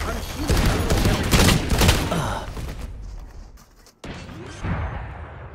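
Dense rapid gunfire from a Valorant match, loud and sustained for about three seconds, then a brief lull before more shots crackle with game effects.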